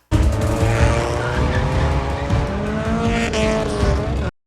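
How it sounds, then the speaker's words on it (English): A Jaguar Project 8 roars through a movie car chase, its loud engine under a long, continuous screech of skidding tires that fills the whole stretch before cutting off abruptly. "That is not what a Project 8 sounds like."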